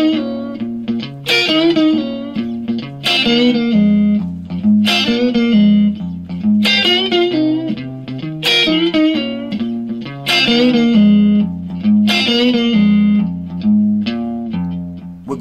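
Electric guitar plays a riff with double stops, repeated several times in a steady, bluesy rhythmic pattern, clean-to-slightly-driven and close, with no talking over it.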